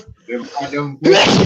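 Someone speaks briefly, then a loud, sharp sneeze bursts out close by.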